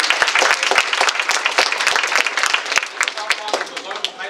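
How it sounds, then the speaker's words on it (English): Applause from a school audience at a speaking event: dense, steady clapping from many hands, close and lively, gradually thinning toward the end. "So give me a clap for that too."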